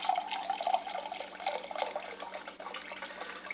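Chicken stock pours from a carton into a pot for a cheesy chicken chowder, a steady close liquid splashing and gurgling that runs unbroken with no talk.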